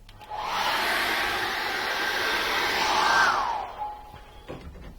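A hair dryer drying acrylic paint: a steady loud whooshing blast runs for about three and a half seconds, then winds down and clicks off, with no talking.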